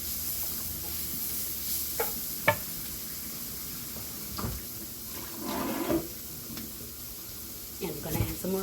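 Liver sizzling in a pan for a Southern home-cooked meal, a low continuous fry with intermittent scrapes and stirring clatter close by, some faint background voices.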